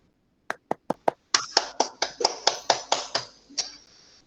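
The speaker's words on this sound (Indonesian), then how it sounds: "Kita kasih tepuk tangan dulu buat temannya." Classroom applause during a peer-teaching lesson: four separate claps, then a quicker run of about ten louder, close claps from a small group before they fade out.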